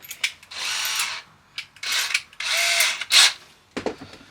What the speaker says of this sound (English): We'll just drill straight down.